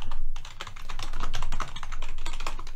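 Steady, fast typing of German text on a computer keyboard, a dense run of close key clicks lasting the whole moment, heard alone with no voices.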